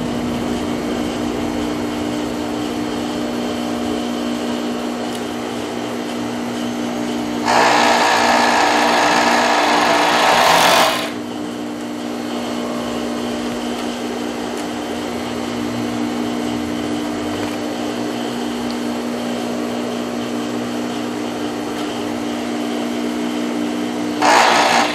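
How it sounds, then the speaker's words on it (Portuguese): A sewing machine stitching the shoulder seams of a knit blouse. A steady motor hum runs throughout, and a louder, brighter burst of fast stitching lasts about three seconds, followed by a brief second burst at the end. "vou costurar os ombros"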